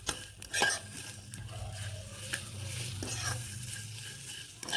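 Chopped, pitted dates frying in a pan for dry fruit laddu, a soft steady sizzle under repeated scraping and clinking of a spoon stirring against the metal, fairly quiet and close.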